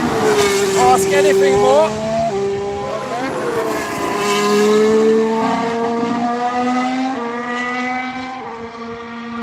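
A Formula 1-style race car on track working through downshifts at a corner, the engine note stepping down with sharp drops and rising again, loud and close, with commentary running over it.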